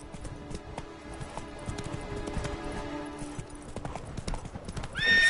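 Roach, a horse in the video game The Witcher 3, gallops with rapid rhythmic hoofbeats over a steady game soundscape, close and continuous, with a brief rising tone at the very end.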